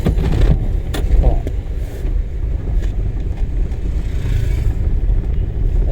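A car engine runs steadily in second gear during a driving lesson, a low continuous rumble with wind and road noise, with no clear voices over it.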